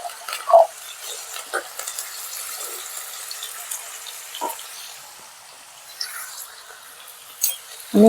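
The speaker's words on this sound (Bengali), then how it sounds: "তেলটা আমার গরম হয়ে গেছে। এবার আমি আলুগুলো ভেজে নেব।" Potatoes frying in a pan of hot oil give a faint, even hiss, broken by a few sharp clinks and scrapes from stirring.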